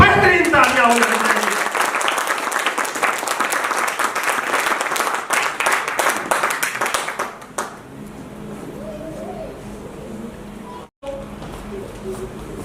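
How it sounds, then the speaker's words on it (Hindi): A business seminar audience claps for Shivam sir, loud and sustained group applause for several seconds that fades out, followed by someone speaking into a microphone. "शिवम सर के लिए बेहतरीन तालियां होनी चाहिए।"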